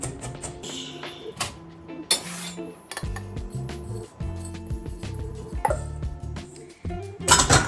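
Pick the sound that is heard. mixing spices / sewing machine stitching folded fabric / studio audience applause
mixing spices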